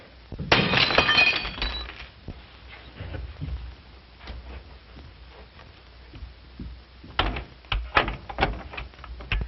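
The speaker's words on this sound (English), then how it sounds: "What's the idea of breaking my window?" A window pane is smashed in a loud, close crash of breaking glass, followed by scattered tinkles and clinks of falling shards, then a second burst of glass debris near the end.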